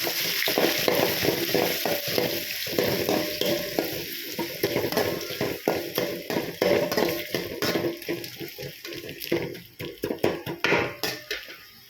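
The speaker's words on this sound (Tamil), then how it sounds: "இப்போ வெங்காயம் வந்து நல்லா வதங்கி வரணும்." Two chopped onions fry in a pan of oil for potato rice, a loud continuous sizzle broken by frequent scraping and clattering strokes of a spoon against the pan, with no voices.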